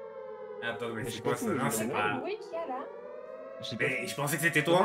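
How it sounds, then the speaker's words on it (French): A wailing air raid siren in a GTA RP game rises and falls steadily under several excited voices talking over it, carrying through the whole stretch. "on dirait une alarme aérienne là"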